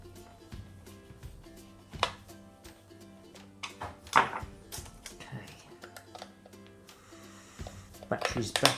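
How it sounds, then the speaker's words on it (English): Batteries being fitted back into a multimeter under repair, heard as a string of small plastic clicks and knocks, close and fairly quiet, with a louder rattle and snap toward the end. "Batteries back in."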